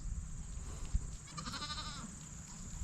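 Goats on a farm bleating, one wavering bleat rising midway above a steady background hum and rustling, fairly faint.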